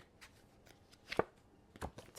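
Oracle cards from a higher self deck being cut and shuffled, a few soft papery slaps and riffles, one sharper card snap midway and another near the end, quiet and close with no talking.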